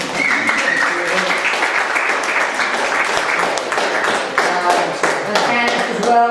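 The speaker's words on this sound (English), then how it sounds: "Please help me welcome round of applause for them." An audience at a caravan gathering applauds steadily, a dense wash of hand clapping with a few sharper claps standing out, loud and sustained throughout, with some voices mixed into the crowd.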